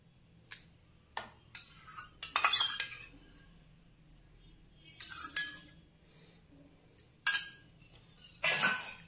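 A spoon stirs yogurt into a chicken marinade with ginger-garlic paste for butter chicken, making quiet, intermittent clinks and scrapes against the bowl in short irregular bursts.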